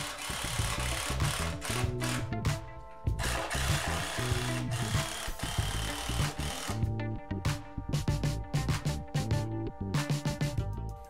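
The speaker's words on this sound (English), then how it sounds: "So I'm going to toenail 2 3-inch screws at the top of each 2x6 to the wood joist." Three-inch screws driven at an angle through 2x6 boards into a wood joist with a power driver, heard as repeated whirring bursts of the tool with short gaps, close and fairly loud.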